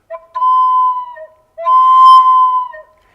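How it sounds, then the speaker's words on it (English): Two long, steady whistled tones, the second a little louder, ring out alone in a story about an elk hunt deep in a forest, set to Native American flute. "And he heard the whistle"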